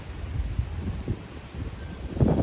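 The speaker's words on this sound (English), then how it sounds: "Y'all can probably hear that wind." Gusty wind buffets the microphone in a garden, a low rumbling roar that swells and eases, growing stronger near the end, with no voices.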